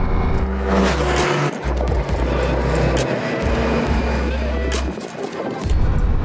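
A Triumph Rocket 3 and a Ducati Diavel V4 ride together, engines droning loudly and steadily with deep rumbling pulses and short dips as the throttle eases, wind rushing over the close engine sound.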